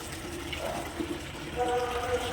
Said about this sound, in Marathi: आता बकेट भरून अजून एक बकेट टाकून देते